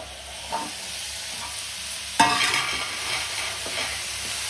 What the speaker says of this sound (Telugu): చూసారా, ఇట్లా బాగా ఫ్రై కావాలి. ఇట్లా ఫ్రై అయితే బాగుంటుంది.